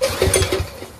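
A Briggs & Stratton 6HP Intek engine on a pressure washer, left outside for years, sputters briefly as it tries to start: a short burst of uneven low putts that dies away within a second.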